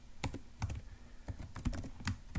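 Keys clatter on a computer keyboard as a Python for loop is typed, irregular bursts of clicks close by with quiet pauses between, no voices.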